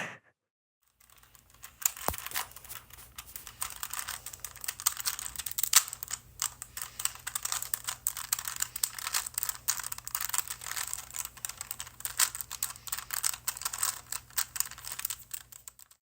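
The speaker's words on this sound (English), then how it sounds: "this is the sound of me turning the Rubik's Cube" Rapid plastic clicking and clacking from a Rubik's Cube being turned, a steady stream of small snaps, close and fairly quiet, no voices.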